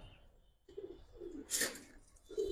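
Giribaz and coloured pigeons coo in low, rounded phrases, several soft bursts spaced across a quiet stretch, with a brief brighter rustle or flutter midway.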